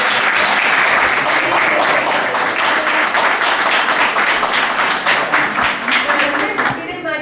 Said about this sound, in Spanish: vale la pena el aplauso